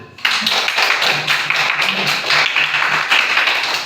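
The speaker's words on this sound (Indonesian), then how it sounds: "tepuk tangan teman-teman" Children at an elementary school gathering clap their hands in a loud, lively burst that starts abruptly and keeps up a brisk, uneven rhythm of close claps, with a little voice mixed in.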